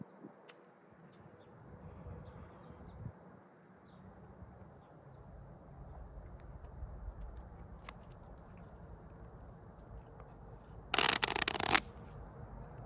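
A deck of playing cards being shuffled at a table, a single short burst of crisp riffling near the end, close and clear over a quiet background hum, with no talking.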